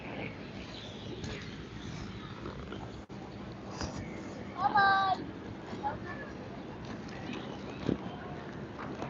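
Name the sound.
cat meowing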